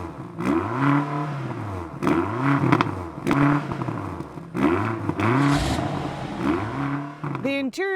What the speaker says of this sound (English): They stacked the dual exhaust, hexagon shape, and the exhaust sound, that's pretty cool.